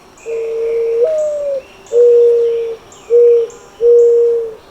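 Mourning dove cooing close by and loud: a drawn-out first note followed by three shorter steady coos with brief gaps, over a faint high background tone.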